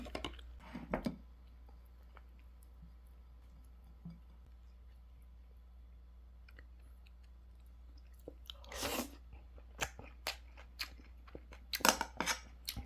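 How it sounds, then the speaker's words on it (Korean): Someone eating a crab shell in a snowy countryside house, with crunchy chewing bursts near the start and a cluster of clicky crunches late on, separated by a long quiet gap. "게딱지를 하나 먹어야겠어"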